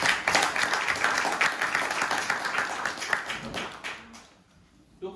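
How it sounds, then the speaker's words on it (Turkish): Applause from a concert audience at an event of Turkish classical music, heard as a sustained wash of many hands clapping that slowly thins out and dies away near the end. "Alkışlarınızı alayım."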